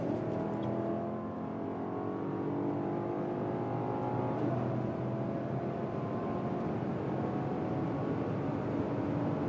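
A BMW X6 M60i V8 in sport mode pulls hard on the German Autobahn from about 120 km/h, a steady, loud engine drone with rising harmonics and road and wind roar throughout, no talking.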